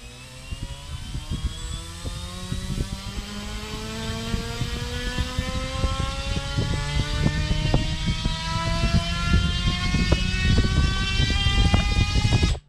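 A drone motor on a 4S battery bench test spins steadily at 12,000 RPM, giving a loud continuous whir with rising tonal harmonics and a constant buzzing drone throughout, with no talking.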